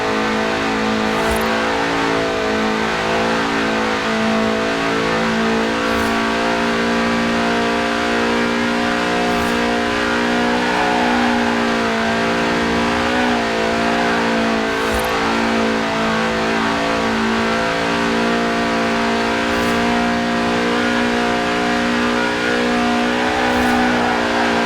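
A Lotus sports car engine in Forza Horizon 4, a 1.8-litre revving to 8,000 RPM, revs hard and holds high, rising and falling in pitch with occasional gear shifts, loud and continuous throughout.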